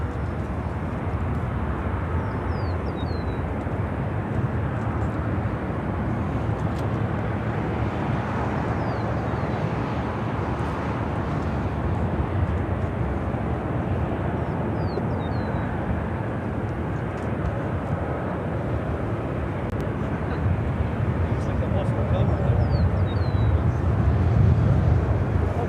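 An Emirates airliner taxiing to the international gates at Chicago O'Hare gives off a steady, moderate engine rumble and whine from some distance, building slightly at the end, with faint chirps over it.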